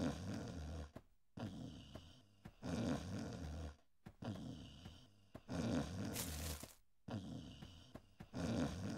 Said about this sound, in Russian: храпит кто-то